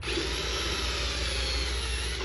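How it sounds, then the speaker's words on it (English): A power drill runs steadily and loudly up close, boring at an angle through a metal sign frame into the wood behind it, with a continuous whine and no pauses. "so I'm going to drill it on an angle"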